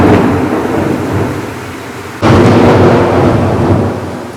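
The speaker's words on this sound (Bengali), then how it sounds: "আওয়াজ বুঝতে পারছো তো, এইভাবে বাজ পড়ে, কন্টিনিউ পড়ে যাবে বাজ।" Loud thunder rumbles through heavy rain and wind, with a sharp, sudden crack midway swelling into a sustained roar, no voices present.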